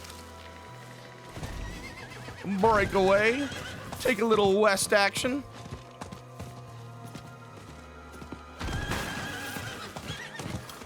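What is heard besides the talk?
horse neighing and galloping in the video game Diablo 4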